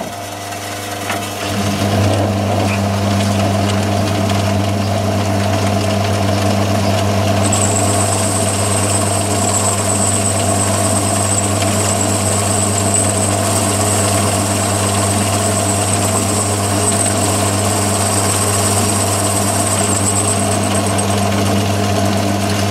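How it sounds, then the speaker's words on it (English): Mini lathe with a boring head machining a steel piece: steady motor hum with a constant drone, starting up after a brief quiet moment, then a thin high cutting whine joins in and holds steadily, close and loud with no talking. "So now I can machine that piece of steel just for an example."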